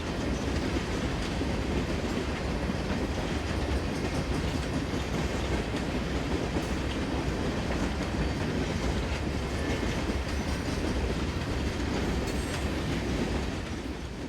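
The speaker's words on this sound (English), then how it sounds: "Coal empties are heading west, powered by a pair of AC-44CWs, with 3 dead ES-44AH locos being ferried in the consist." A westbound CSX coal train of empty cars, hauled by a pair of AC-44CW locomotives with three dead ES-44AH units in the consist, rumbles past steadily and loudly with continuous wheel clatter on the rails, no voices.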